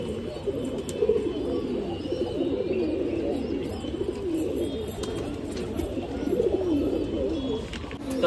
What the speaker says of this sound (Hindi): ये एक नया कबूतर उड़ रहा है यहाँ पे और हमारे छत के ऊपर में आ रहा है।